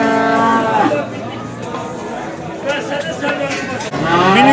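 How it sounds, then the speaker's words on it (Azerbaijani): Female calves (heifers) moo loudly at a busy livestock market in Beylagan, with long lowing calls at the start and end over steady crowd chatter and nearby talk. "bax belə dişi danalar var"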